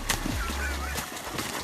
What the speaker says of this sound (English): take a look at this huge one attacking a dog